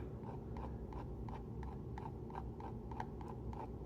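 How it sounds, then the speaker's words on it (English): Rhythmic short scraping strokes repeat steadily, a palette knife dragging paint across textured paper over a constant low background hum. "you can hear the scraping, and it creates the texture"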